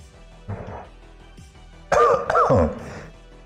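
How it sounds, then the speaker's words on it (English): A person coughs and clears their throat in a short, close burst, a softer rasp first and then a louder, harsher cough, with no talking. "Guess my cough's not entirely gone."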